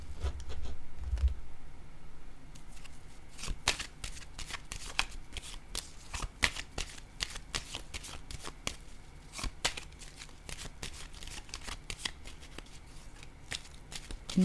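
Tarot cards shuffled and drawn at close range, a steady run of crisp riffles and slaps with no talking over them.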